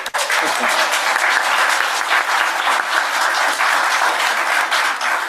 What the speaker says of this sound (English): And now let's applaud.